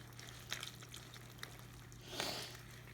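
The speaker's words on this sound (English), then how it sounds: "then we're just gonna add our water and mix" Water poured from a sink into chocolate cake batter, a faint, quiet splash and trickle with a brief louder pour near the end, heard alone against low background hum.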